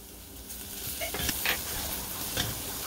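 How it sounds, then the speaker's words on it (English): Crushed garlic sizzles with translucent onions in a pan, a steady close frying hiss broken by a few short scraping stirs from a utensil. "we're gonna add the crushed garlic and we're gonna stir for about 10 seconds"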